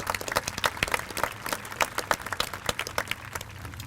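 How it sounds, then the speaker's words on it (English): A high school graduation audience applauding, with many hands clapping in a busy, uneven patter that fills the room at moderate loudness. "Give yourself a nice round of applause."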